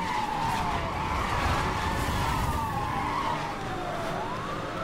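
A car slides on the parking brake in the racing game NFS: Hot Pursuit, its tires letting out a long, loud, wavering screech over a steady engine roar throughout.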